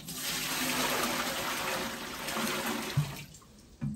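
Pond water pours and splashes steadily into an aquarium tank, a continuous rushing stream that thins out and stops near the end, followed by a couple of soft knocks.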